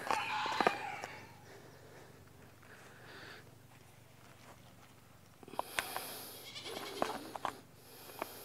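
Bottle-fed goat bleating at close range, with a couple of sharp cries at the start and more bleats and snorting sniffs later, otherwise fairly quiet between calls.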